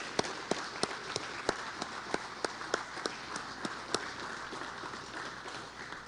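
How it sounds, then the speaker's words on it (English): Graduating law enforcement classes applaud their supporters at a 2017 graduation ceremony. Steady crowd applause fills a large room, with a series of sharper, evenly spaced claps standing out above the wash. "I want Class 2 and Class 3 to turn around and applaud these fine folks that are here to support you."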